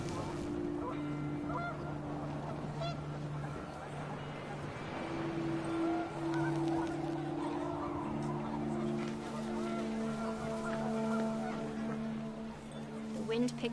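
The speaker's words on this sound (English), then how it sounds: "The wind picked up, and panicked geese appeared and quickly went." Panicked geese honk repeatedly in a windy outdoor scene in What Remains of Edith Finch, a run of overlapping calls at moderate distance with a voice talking over them.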